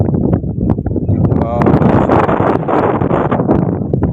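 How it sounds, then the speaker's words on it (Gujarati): Strong wind on a rooftop in Mandvi buffets the microphone in a steady roar and rustle, with a person talking underneath throughout. "પવન બહુ છે એટલે આપણે ઉપર તો વાતચીત કંઈ બહુ થાય નહીં વધારે"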